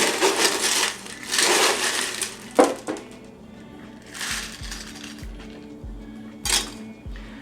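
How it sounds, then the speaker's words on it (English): Fresh crushed ice is added to a double rocks glass for a Jamaican Mai Tai, with crunchy scooping and clattering. Several sharp clinks of ice and glass come close up, with no talking. "Top with some more fresh crushed ice."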